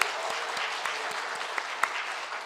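A church congregation claps together at a devotional service, steady dense applause held at an even level for a couple of seconds with a few sharper claps standing out.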